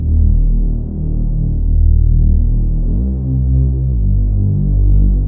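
A Reese bass synth passed through a compressor throbs as a loud, sustained low drone, with a slow beating wobble and a pitch step about halfway through.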